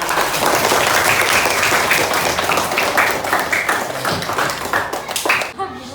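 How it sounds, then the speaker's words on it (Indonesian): A primary school class in a lesson on Surah Al-Ma'un claps together in quick, loud, fairly rhythmic strokes, with children's voices mixed in, stopping abruptly near the end. "Coba beri tepuk tangan."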